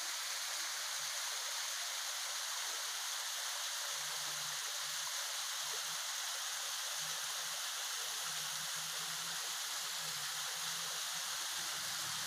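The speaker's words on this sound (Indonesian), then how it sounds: "Sungai sangat tinggi sekali." A high, swollen river rushes steadily past a tourist village in Indonesia with a broad, continuous roar of flowing water. It stays loud and unbroken throughout, with a faint low hum underneath.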